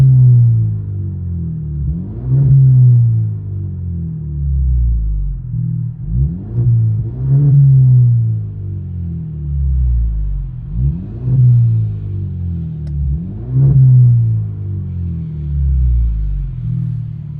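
Turbocharged 2.0L four-cylinder of a 2020 Genesis G70 with a muffler delete, heard from inside the cabin as a low droning exhaust that swells in four repeated rev cycles, steady and fairly loud, with no talking.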